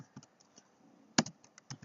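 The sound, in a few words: typing a command on a laptop keyboard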